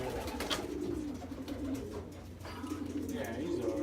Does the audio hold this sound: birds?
yes